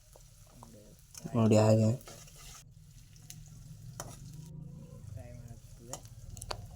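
Egg bhurji frying in a pan and being stirred, a soft sizzle with occasional scraping stir sounds, one louder burst of sizzling near the start, under quiet talking.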